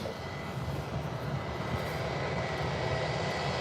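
A passenger airliner from Germany approaches to land at Birmingham Airport in gusty crosswind after a go-around, its engines a steady distant roar and whine that holds level throughout, with no voices.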